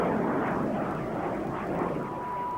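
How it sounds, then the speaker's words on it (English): Steady roar of an early jet engine on a de Havilland Vampire, the first de Havilland jet from 1943, a loud continuous broadband rush with a faint thin tone running through it, no voices. "it powered de Havilland's first jet, the Vampire, which first flew in 1943"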